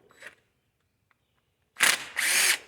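A power drill drives a T30 Torx bit while removing screws on a John Deere Gator parking brake, with two short close bursts of high whirring after a faint earlier click and near silence.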